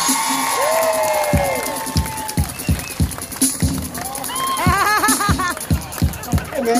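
A street crowd in New Orleans' French Quarter cheers, whoops and whistles for break dancers over a thumping music beat, with people talking and shouting throughout.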